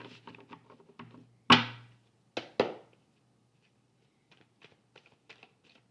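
Tarot cards are shuffled in short, close bursts, with a couple of sharp card slaps among soft ruffles and taps, followed by quiet, sparse ticks.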